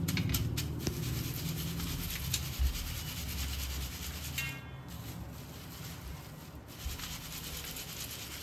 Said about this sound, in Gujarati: આપણે સિંગ જારામાં નાખીને એના પોતા અલગ કરી નાખીશું.